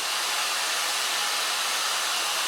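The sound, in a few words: hair dryer blow drying hair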